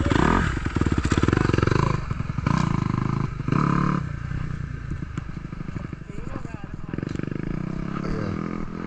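Dirt bike engine revving hard with pulsing rises and drops as gears shift, loud and close throughout, with a voice talking over it at times.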